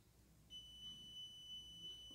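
A multimeter in diode mode gives a steady high electronic beep while a MOSFET is tested, starting sharply and holding continuously for well over a second in a quiet room.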